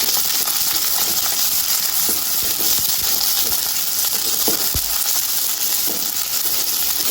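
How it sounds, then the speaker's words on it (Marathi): Capsicum and cabbage sauté in hot oil for Indian-style pasta, giving a loud, continuous sizzling hiss with occasional sharp clicks of a spoon against the pan. "इथे शिमला मिरची टाकायची आणि इथे कोबी टाकायची"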